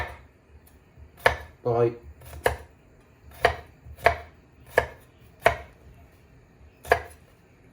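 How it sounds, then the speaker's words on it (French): A knife chops onion or shallot on a board with about ten sharp, close knocks in an uneven rhythm, joined by a brief spoken word partway through. "On va juste hacher notre oignon ou notre échalote."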